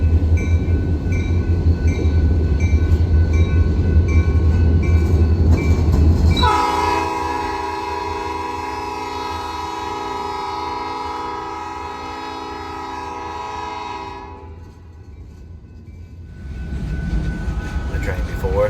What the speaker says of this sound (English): The train before us is the northbound AGR Bulgy Turn, returning to Columbus with a pretty sizable train this evening.